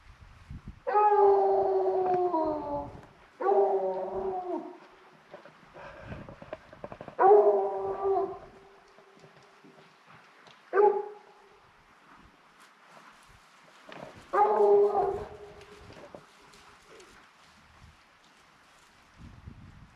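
Hunting dogs in the open, several separate bursts of howling and baying at mid distance, each lasting one to two seconds with quiet gaps between, a little wind noise underneath.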